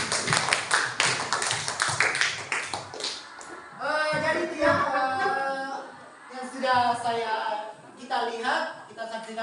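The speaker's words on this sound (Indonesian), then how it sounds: "Oke, tepuk tangan dulu untuk kelompok 5." Students in an Indonesian class clap for a group in a quick burst of close, sharp claps lasting a few seconds, followed by voices speaking or chanting in unison.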